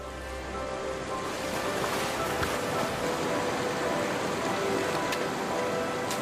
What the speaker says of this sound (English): The water carves its way through the desert.